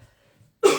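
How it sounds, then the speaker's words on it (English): A single short, harsh cough bursts out close by after a near-silent pause. "I do a quick cough."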